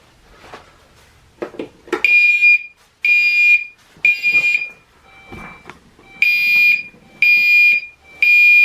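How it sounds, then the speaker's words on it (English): A building fire alarm sounds during a security system drill, loud repeated electronic tone bursts in a steady on-off rhythm, after a few faint thumps and shuffles. "At least the alarm works."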